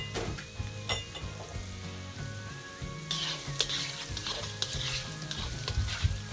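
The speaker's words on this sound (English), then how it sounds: "butter and the olive oil in the chopped onion nice and brown" Butter, olive oil and chopped onion fry in a pan, a steady close sizzle broken by scrapes and stirring clatter from a utensil, growing brighter and busier partway through.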